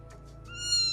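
A cat meow sound effect set off by a livestream command plays over a steady low background hum, rising into a brief bright, tonal call near the end.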